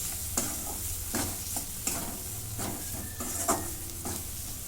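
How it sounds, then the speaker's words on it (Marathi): Onion, garlic and masala spices with coriander-cumin powder, garam masala and turmeric being stirred and sautéed in a pan for a black brinjal curry: steady close sizzle with repeated scraping stirs, no talking. "आता हे पुन्हा परतून घेते"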